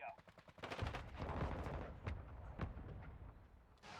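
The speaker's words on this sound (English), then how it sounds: "Hostile mortar strike in the area." Rapid gunfire and heavy blasts from an incoming mortar strike in Call of Duty: Modern Warfare 2, with dense bursts of shots and several sharp booming impacts, fairly faint overall, mixed with game voices.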